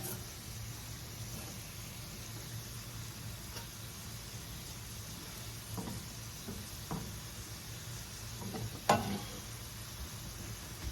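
Sausage frying in a pan for a breakfast casserole, a steady soft sizzle with occasional faint knocks and one sharper clack near the end, fairly quiet and with no talking.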